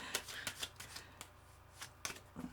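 A deck of tarot cards being shuffled in a messy, uneven way, giving a series of sharp papery riffles and slaps at an irregular rhythm, close up and fairly quiet, with no voices.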